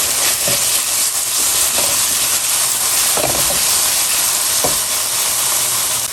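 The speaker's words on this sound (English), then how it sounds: "and half of this 7-ounce can of the Ortega chilies. We're going to cook this for about a minute" Half a 7-ounce can of Ortega chilies sizzles steadily in a hot pan, a continuous bright frying hiss with a few soft stirring scrapes, loud and close, with no talking.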